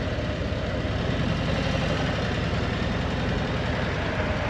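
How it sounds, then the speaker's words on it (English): A vehicle engine idles with a steady, low rumble, continuous and fairly quiet, with no voices over it. "That's an interesting idle."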